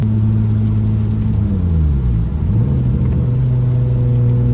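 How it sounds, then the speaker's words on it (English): A modified car's engine heard from inside during a manual downshift, a loud low droning hum whose pitch sinks briefly, then settles back to a steady rumble. "Downshift action."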